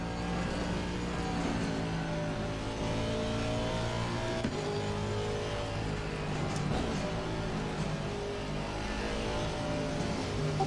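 A race car engine drones steadily at close range throughout, with a blue Porsche overtaking on the left, its engine note shifting and swelling as it passes, all under the constant roar of the in-car engine.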